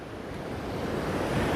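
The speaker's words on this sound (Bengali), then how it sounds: "সমুদ্রের ভিতর ওই পাশটাও বড় বড় ঢেউ উঠতেছে" Sea waves surging onto a beach at dawn beside a windbreak of casuarina trees, a steady, full roar of surf with wind rushing across the microphone, continuous and fairly loud, with no talking.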